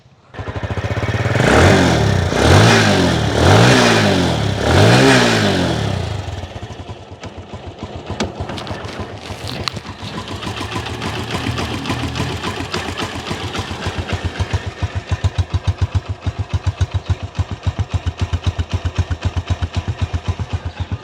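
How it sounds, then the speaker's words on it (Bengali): A secondhand TVS Metro Plus 110cc motorcycle revs hard several times in loud, rising and falling surges, then settles into a steady, close, putting idle with a rapid regular engine rhythm. "এবার আপনাদেরকে গাড়ির ইঞ্জিনের সাউন্ডটা শোনানোর চেষ্টা করব।"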